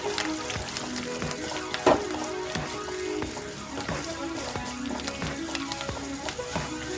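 Dried red chillies and curry leaves fry in hot oil for a tempering, making a steady close sizzle and crackle with occasional sharp pops and utensil scrapes from stirring, with no talking.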